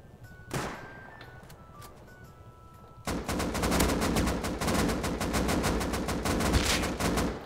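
Video game gunfire in Rust: a single sharp shot, then a long rapid burst of automatic gunfire, loud and close, firing continuously to the end.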